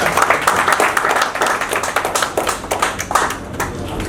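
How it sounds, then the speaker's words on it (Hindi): An audience claps together at an interfaith unity gathering, a dense, steady burst of many hands that runs unbroken for about four seconds, loud and close. "ये तालियां किसी विशेष के लिए नहीं, आज सभी के लिए गूंजी है।"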